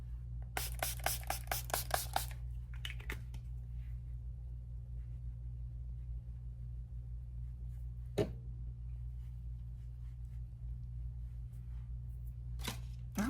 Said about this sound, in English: I'm going to use the setting spray